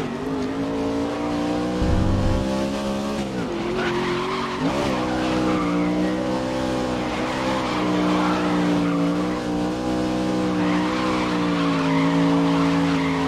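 A racing truck in Grid's Pro Truck Challenge skids with a sustained tire squeal over a steady, droning engine, the pitch sliding as it slips sideways and keeps revving.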